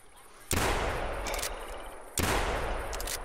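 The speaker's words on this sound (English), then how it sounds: "I've never shot a duck with this 10 gauge yet" Two heavy 10-gauge shotgun blasts fired at ducks in the hunting game theHunter, each a sharp, loud boom with a long rolling tail, spaced about a second and a half apart.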